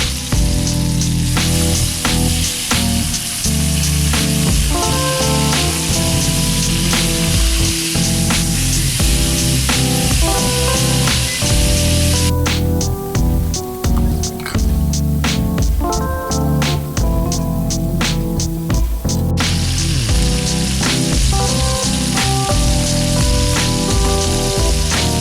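Ribeye steaks sear in a pan after being flipped, giving a steady broadband sizzle that runs the whole time beneath loud, continuous music.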